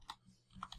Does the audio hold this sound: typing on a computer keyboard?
yes